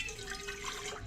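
Water is poured into a cup while cooking, making a steady, faint splash and trickle that lasts a little over a second, with no talking over it.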